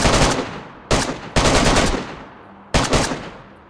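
Four loud, close gunshots from DayZ on PS5 ring out at uneven intervals, each a sharp crack with a long decaying tail.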